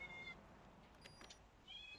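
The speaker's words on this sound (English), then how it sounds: "And now my cat's meowing." Pet cat meowing faintly in a room during Resident Evil 2 (2019) play on PS4, two short high calls at the start and the end, soft and somewhat distant over a low hum.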